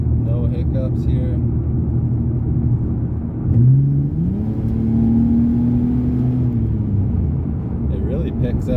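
A 2003 Ford Ranger with a swapped 4.0L SOHC engine is floored at full throttle on a test drive, its steady rumble climbing into a rising, sustained rev that holds, then eases back, with a voice talking over it.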